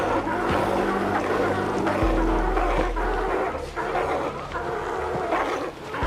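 Deep, gruff barks and growls from a crowd of Australian sea lions overlap with a low rumbling drone, loud and constant throughout.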